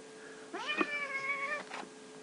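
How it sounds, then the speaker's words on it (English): A distressed cat gives one drawn-out, wavering meow lasting about a second, close and fairly clear, followed by a short softer cry, against a quiet background. "Kitty here."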